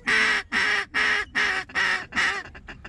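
Mallard ducks on a hunt call in a loud, nasal series of about six even quacks, then trail off into several quicker, fainter ones. No one speaks over them.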